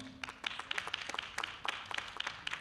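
Faint, sparse applause from a small audience at a French research presentation, scattered individual claps rather than a full ovation, quiet and distant throughout.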